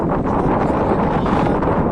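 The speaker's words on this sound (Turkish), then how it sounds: "Rüzgarın sesini belki duyuyorsunuz bilmiyorum" Steady, broadband wind noise buffeting the microphone outdoors, a continuous rushing roar with no speech.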